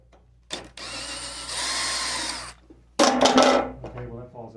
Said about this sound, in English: Remove this screw here.